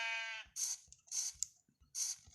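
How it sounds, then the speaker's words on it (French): A sheep in a Minecraft-style video game bleats in short wavering calls, three or four spaced bursts following an opening tonal note, fairly close and clear with no speech. "Un deuxième mouton."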